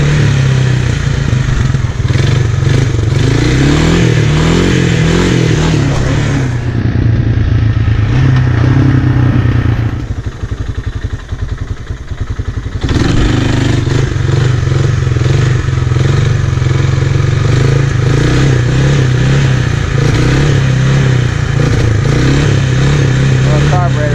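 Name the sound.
Honda 300 Fourtrax ATV engine with carburetor bog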